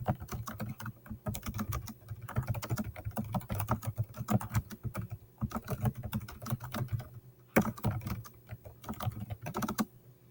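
Typing on a computer keyboard while filling in a text box for a Canvas assignment: steady, close, moderately quiet key clicks in uneven bursts with short pauses and no talking.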